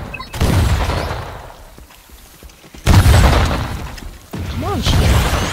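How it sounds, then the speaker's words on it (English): Three heavy blasts from the Firefall video game come in succession, each a sudden loud boom that rolls off into crackling debris. A rising whistle-like tone rings out after the final blast. "it's like a big explosion"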